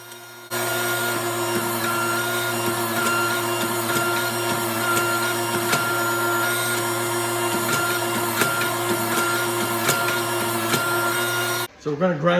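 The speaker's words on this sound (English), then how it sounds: "I'm holding the steel billet on an angle under the drawing dies." A hydraulic press draws a Damascus steel billet for a low-layer Bowie knife, held at an angle under drawing dies. A loud, steady mechanical drone with a constant low hum runs for about eleven seconds, then cuts off abruptly.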